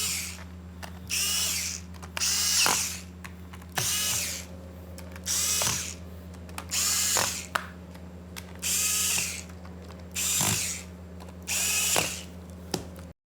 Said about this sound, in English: Snap it into place and tighten the screws.